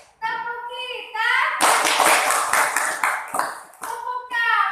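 Children in a classroom group counseling session clap together in short rhythmic bursts during a clapping game, with a voice speaking before and after the claps.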